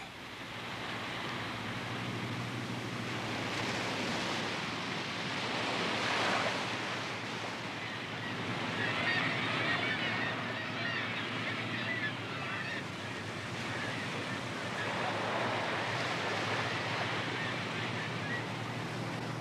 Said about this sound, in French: les grandes vagues atlantiques éclatent contre le roc